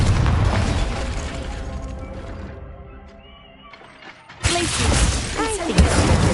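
Confringo fire-blast spell in the Hogwarts Legacy video game: game sound fades into a lull, then a sudden loud burst erupts and rumbles for a couple of seconds, with some voice under the game sound.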